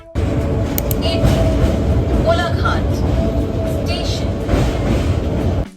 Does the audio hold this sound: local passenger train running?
yes